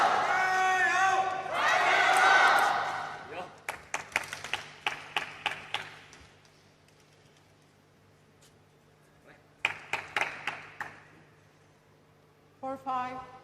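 Crowd at a men's table tennis semi-final between Fan Zhendong and Tomokazu Harimoto bursts into cheering and applause, then scattered claps ring out in bursts, with a commentator talking over parts of it.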